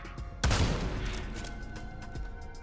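Sudden burst of video game gunfire from a sharp blast, a dense loud volley that decays into a rattling tail with scattered later shots, heard near and alone.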